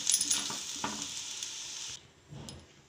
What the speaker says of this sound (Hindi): अब आलू को हम निकाल लेंगे कढ़ाई में से।